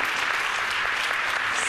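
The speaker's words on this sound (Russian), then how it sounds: "Аплодисменты." Steady, dense applause from a concert audience at an open-air live music festival, a continuous wash of clapping with no pauses, fairly loud and even throughout.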